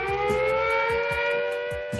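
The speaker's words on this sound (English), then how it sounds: "it's that siren, the siren wailing" A civil defense siren wails loud and close, a steady sustained rising tone with rhythmic pulsing over two seconds, heard alone without voices.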